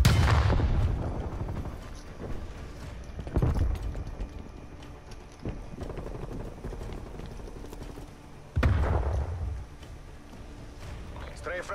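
An air strafe run in Call of Duty: Black Ops Cold War sets off a few heavy booming blasts with crackling gunfire between them, loud and close, while a voice talks over the action.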